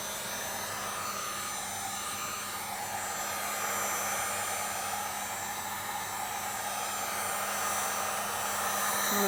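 A heat gun or hair dryer blows steadily to warm the rim of a metal pastry ring around a coconut-strawberry-hibiscus entremets, a loud continuous whooshing hiss that swells slightly toward the end, with no talking.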